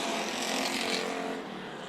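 Race car accelerating hard on the dirt oval at Bakersfield Speedway during a heat race, a loud sustained engine roar that builds and then eases slightly as it passes.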